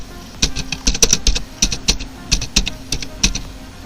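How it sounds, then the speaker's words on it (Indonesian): Clicky computer keyboard keys pressed in quick irregular bursts while entering text into an Excel spreadsheet, close and fairly loud with short pauses between runs of keystrokes. "lalu kita ketik pendidikan biologi"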